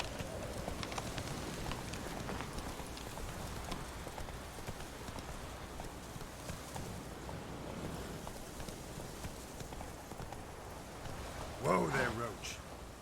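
Hooves of Roach, a horse in a video game, clip-clop in a steady walking rhythm for most of the stretch, with light rain-like ambience behind and a brief louder knock near the end.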